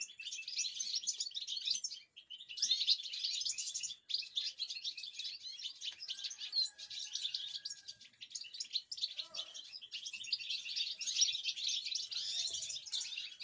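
A caged goldfinch during breeding keeps up rapid, bright twittering and chirping in long bursts with short pauses, near and clear against a quiet background.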